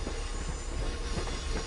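An MBTA HSP46 locomotive rolls along in a Train Sim game, giving a steady, moderately quiet rumble of wheels and running gear with faint rail noise and no voices.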